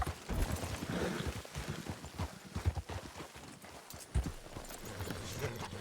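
Horse hooves clip-clopping in a video game, a run of quick, rhythmic hoofbeats close up with slightly uneven spacing, heard alone without speech.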